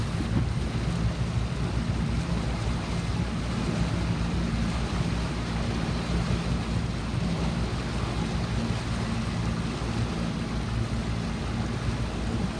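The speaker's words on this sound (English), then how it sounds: "Very manageable in 7 knots of wind though." Steady wind roar and rushing water around a 29er sailing dinghy in about seven knots of breeze, a constant dense wash of noise throughout with low hull and wave rumble underneath.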